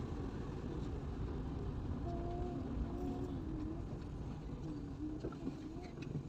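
A car with a manual gearbox climbs a hill road toward Bukit Mengkirai, accelerating in second gear: a steady, loud engine drone and road rumble runs throughout while people talk inside the cabin.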